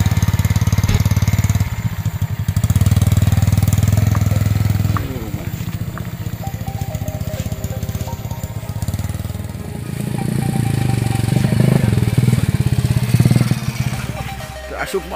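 A motorcycle engine runs steadily and close by for the whole stretch, a continuous low rumble that rises and falls with the throttle, out on a trip to gather grass for livestock.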